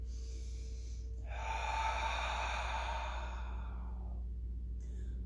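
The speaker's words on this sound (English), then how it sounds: "Cleansing breath." A long, audible cleansing exhale during a guided neck-stretching exercise, a soft airy rush of breath lasting about three seconds against a quiet room hum.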